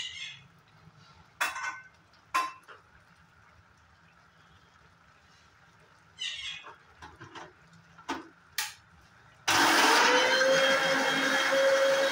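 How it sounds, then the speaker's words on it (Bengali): A mixer grinder half-grinds ginger, green chillies and garlic. A few quiet clicks and handling knocks come first, then the motor kicks in with a loud, sustained whirring roar that continues to the end. "থেকে এইভাবে আদা বাটা করছি"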